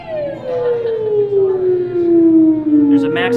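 A 1927 theremin played at a music museum in Carlsbad, California, a wavering tone gliding steadily downward over a few seconds, with faint background noise and a brief clatter near the end.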